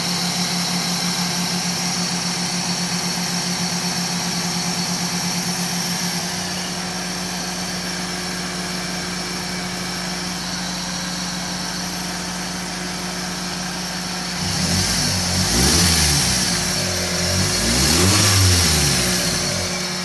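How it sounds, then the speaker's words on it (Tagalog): A Toyota 2E car engine, freshly ignition-timed, idles smoothly and steadily up close, then revs up twice in quick succession near the end. "Ganda pa yung makina niya, tahimik pa."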